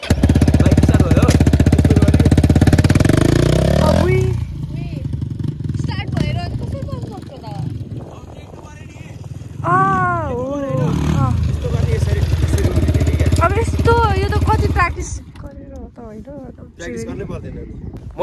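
A motorcycle engine running, a loud rough droning rumble at first that drops back to a lower idle while people talk over it, then cuts out near the end.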